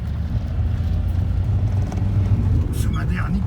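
Interior of a car fitted with new four-season tyres, driving on a country lane and heading onto the road, a steady low engine and road rumble throughout, with a person talking briefly near the end.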